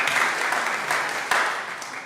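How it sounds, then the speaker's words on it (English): A church congregation claps during a worship service, a dense, even applause filling the room throughout with a few louder individual claps standing out. "worthy of applause"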